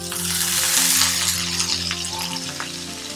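Minced meat frying over low to medium heat with onion and cumin, a steady dense sizzle with faint stirring scrapes, close and continuous, no talking.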